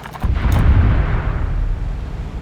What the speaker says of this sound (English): I can see some explosions off to left.